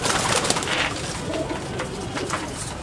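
Malwai pigeons coo softly amid a busy, noisy outdoor background, with fluttering and rustling close by; no one speaks.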